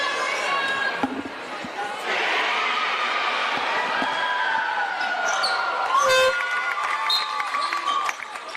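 An arena crowd roars and chatters through a 2018 Waratah League men's semi-final basketball game between St George Saints and Tamworth Thunderbolts, with sneaker squeaks and a commentator talking over the steady noise.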